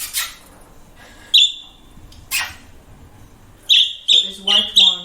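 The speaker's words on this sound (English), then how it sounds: "We're going to record the birds for a bit." Pet budgies kept indoors, giving several high, sharp chirps in short bursts, close and fairly loud, mixed with brief rustling noises and faint voices in the background.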